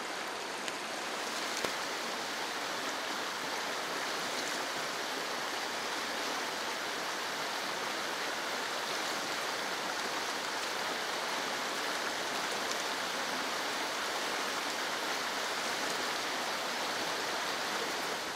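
Cold river being waded across in a wilderness survival course, a steady broadband rush of flowing water filling the scene at constant loudness, with no voices.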